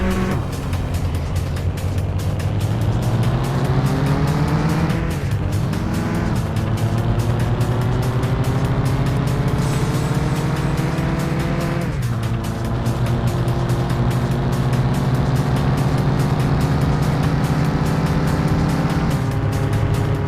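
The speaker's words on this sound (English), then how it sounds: "On Tuesday, I raced for the first time with a manual transmission." Engine of a race car in Mon Bazou with manual transmission, loud and steady throughout, revving up in pitch and dropping sharply at gear changes around five and twelve seconds, with no voices.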